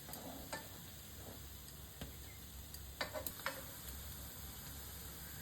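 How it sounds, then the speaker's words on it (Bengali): Flattened rice balls stuffed with potato filling fry on a tawa with a faint, steady sizzle, broken by a few soft clicks and taps of a utensil. "আমি এই তাওয়াতে ভাজলাম"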